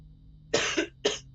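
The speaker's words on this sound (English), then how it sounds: "been coughing up a storm" Two sharp coughs, close to the mic, the second shorter than the first, after a brief quiet stretch with a faint hum.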